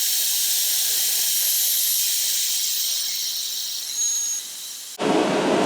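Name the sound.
heat gun heating heat shrink over soldered wires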